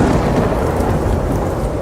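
A loud thunderstorm with heavy rain pours steadily as a dense, continuous roar and low rumble, with no voices.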